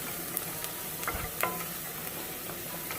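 Cornstarch is stirred into butter in a pot for a creamy carrot soup, under a constant low sizzle broken by a few light scrapes and taps of the spoon.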